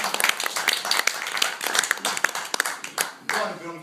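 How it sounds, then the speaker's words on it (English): A group claps enthusiastically, a dense burst of applause with sharp individual claps throughout, briefly swelling near the end. "Round of applause for"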